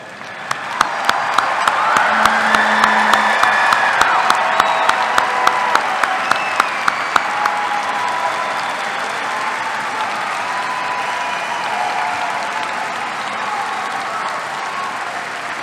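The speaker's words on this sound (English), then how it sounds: "Let's give all these graduates another round of applause." Sustained crowd applause fills a commencement hall for university graduates, steady and dense at first, with a few sharp claps standing out, then fading slightly while continuing without speech.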